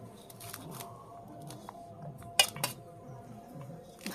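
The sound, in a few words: rice being served onto a plate with cutlery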